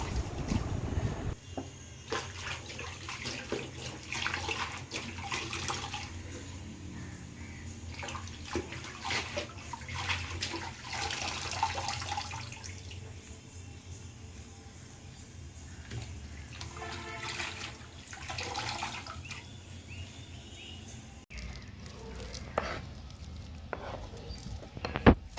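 Centella asiatica leaves are washed in water, a steady splashing and running-water wash that continues evenly for a long stretch, close and fairly quiet, with no voices.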